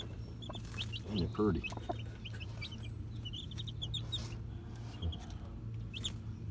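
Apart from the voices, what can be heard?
young chickens clucking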